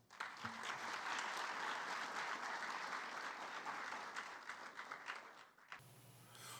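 A round of applause from an audience at a Brazilian ceremony honoring someone absent, steady dense clapping that holds for about five and a half seconds before ending abruptly in a quieter room.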